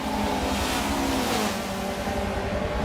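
Touring cars from a WTCC round on a US street circuit, an Audi and a Honda, roar side by side under hard acceleration, a loud, continuous, close engine howl throughout.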